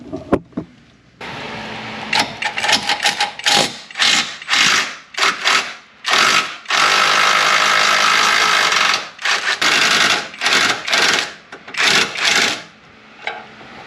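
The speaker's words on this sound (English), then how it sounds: "So right up in here are the bolts, or the nuts we're going to take off." Nuts and bolts come off the bumper of a 2021 Jeep Gladiator Willys, probably with a power tool, in loud close bursts of whirring rattling separated by short pauses, one long run in the middle.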